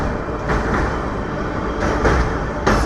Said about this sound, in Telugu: సో ఈ ట్రైన్ వచ్చేసి మన సర్కార్ ఎక్స్ప్రెస్ ట్రైన్, ఇది చెంగల్పట్టు కాకినాడ పోర్ట్.